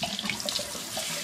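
Fresh rhubarb stalks are rinsed under a running kitchen tap, giving a steady close splashing and trickling of water with small spatters as each stalk passes through the stream.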